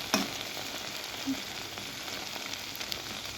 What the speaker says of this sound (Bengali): আমি এবার বেগুনটা দিয়ে দেবো এর মধ্যে